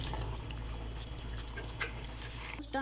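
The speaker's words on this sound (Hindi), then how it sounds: "अब यहाँ मेरे पास 2 टेबल स्पून लेमन जूस है, मैं ये भी डाल दूंगी।" Two tablespoons of lemon juice pour into a cooking pot of chicken and potatoes, a short, continuous liquid splash over steady kitchen background noise.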